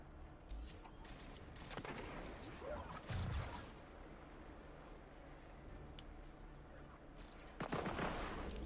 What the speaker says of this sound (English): We got people shooting in the sky.